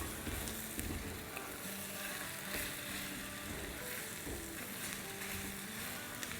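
Eggs sizzle and fry in a pan for aloo wale anday, a steady crackling hiss with faint scraping as they are turned over, no voices.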